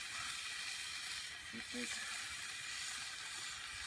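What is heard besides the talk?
bacon sizzling in cast iron skillets on a Camp Chef stove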